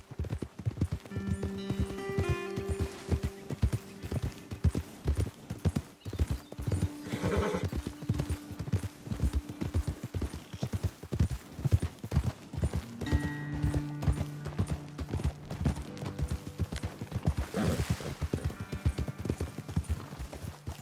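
Horses' hooves clip-clop in a steady trotting rhythm in the video game Red Dead Redemption 2, with occasional neighs and whinnies rising over the hoofbeats.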